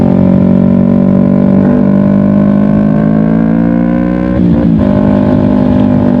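Loud, steady engine drone of a Kawasaki Ninja 250 FI motorcycle with a Pro Liner aftermarket exhaust, riding on the road, raspy exhaust note holding a constant high rev with a brief dip before carrying on.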